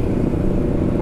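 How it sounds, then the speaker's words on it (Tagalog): A big motorcycle passes on the road with a loud, low engine rumble that stays steady and close through the brief moment. "Oh, lalaki yung bike oh."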